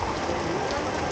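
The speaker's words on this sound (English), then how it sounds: "The rain at SeaWorld Orlando on the 9th of September 2024." Steady, dense rain pours down at SeaWorld Orlando during a tropical storm, a loud continuous hiss with no breaks over its short length.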